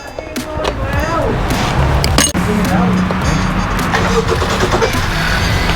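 A Honda Civic 1.5 turbo (FC/FK) fitted with a BMC open air filter starts up, cranking and catching midway through, then settling into a steady idle, heard up close under broad mechanical noise.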